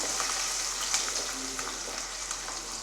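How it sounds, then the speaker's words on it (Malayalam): Garlic and finely chopped ginger frying and being stirred in a pan, heard as a steady, close hiss of sizzling oil with faint scraping stir sounds throughout and no talking. "അപ്പോൾ അതിൻ്റെ കൂടെ തന്നെ ഇഞ്ചി ചെറുതായി മുറിച്ചത് ഇട്ട് കൊടുക്കാം. അപ്പോൾ ഇതൊന്ന് ഇളക്കി കൊടുക്കാം."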